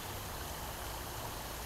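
A babbling brook on the Venango Campus makes a steady, close rushing and trickling wash of creek water flowing, with no voices over it.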